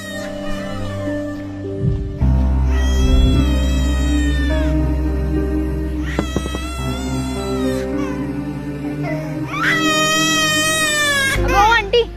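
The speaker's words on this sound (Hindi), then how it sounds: "यार कहीं से बच्चे की रोने की आवाज आ रही है ना?" Three drawn-out, wailing cries like a baby's rise and fade over steady background music, each a few seconds long.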